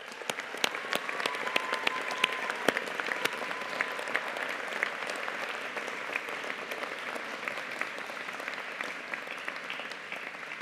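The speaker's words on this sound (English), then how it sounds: "let's take a moment to acknowledge and applaud them for the support they've given you" A graduation ceremony audience for the Faculty of Humanities & Social Sciences at Strathclyde applauds graduates' families and supporters: sustained dense clapping from a large crowd in a hall, even and continuous throughout.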